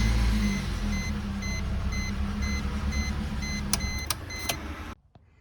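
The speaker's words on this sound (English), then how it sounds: "so this should turn on the car" A Suzuki SX4 with a GPS tracker and kill switch installed runs with a steady engine rumble while a regular electronic chime beeps over it, then a few sharp clicks come just before the sound cuts out.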